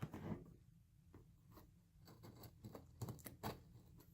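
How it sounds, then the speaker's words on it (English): A knife slices and scrapes through Seagate drive packaging in faint, close rustling strokes and small ticks, a quiet irregular scratching with no voices. "Don't really want to cut the packaging too much."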